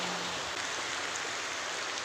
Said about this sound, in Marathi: फुल डेंजर पाऊस आहे.